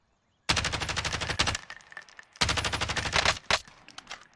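Automatic gunfire in Warzone, two loud rapid bursts of evenly spaced shots separated by a short pause, followed by a few lingering single shots.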